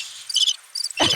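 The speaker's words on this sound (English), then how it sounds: "Crickets." Several crickets chirp in short bursts of bright, high trilling, pausing briefly between rounds before a louder, fuller burst at the end, with no talking.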